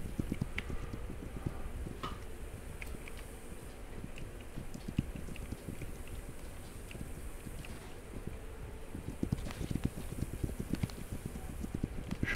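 Wagon horses' hooves clop steadily in the video game This Land Is My Land, a soft, continuous patter under wind and outdoor ambience, with no talk over it.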